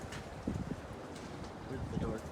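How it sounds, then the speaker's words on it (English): Gusty outdoor wind buffets the microphone in a steady low rumble, swelling in stronger gusts, while people talk over it. "Oh my god, this stupid wind. Wind out here, not the ceiling fan."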